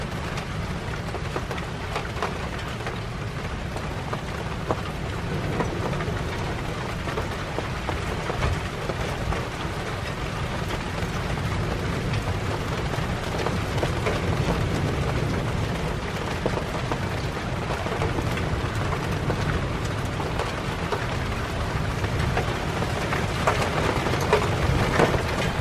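Storm with hail and rain, a dense continuous roar of falling precipitation pattering on surfaces, steady and fairly loud throughout with scattered sharper impacts and no talk.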